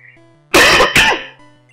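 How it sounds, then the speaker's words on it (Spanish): Two sharp, loud coughs from a close person, the second following quickly after the first, set against a quiet electronic game-music background. "me está dando la tos"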